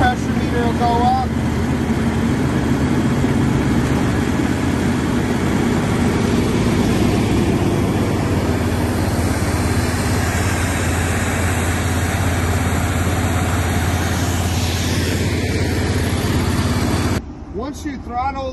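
The engine of a Trojan TW2000 trailer jetter runs steadily with a rushing water hose, a loud continuous drone close by that cuts off abruptly near the end, with a voice heard over it.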